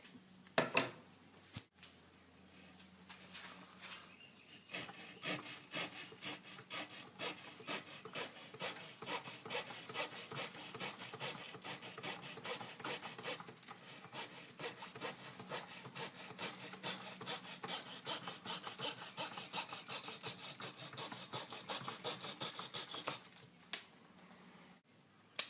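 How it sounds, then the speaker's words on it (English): A Dremel rotary tool grinds into the wood of a bonsai, hollowing it out in a long run of rapid, scraping bursts that stop briefly and resume, close and fairly quiet. "I do think I'm going to get my Dremel and hollow that out a little bit."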